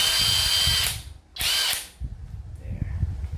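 TIO MOON WHT80S budget high-torque impact wrench running in two close bursts of loud whirring hammering, followed by quieter handling noise.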